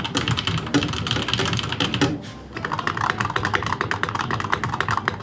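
Fingers type rapidly on a computer keyboard, producing dense, crisp key clicks close up, with one brief pause before the clattering resumes.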